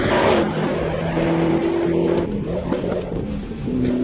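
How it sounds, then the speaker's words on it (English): A Challenger SRT8 muscle car accelerates hard through second gear with tires spinning, its loud, close engine roar rising in pitch over steady tire squeal for about four seconds. "Just listen to how it spins its tires through second gear."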